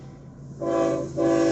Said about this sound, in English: watch this train go by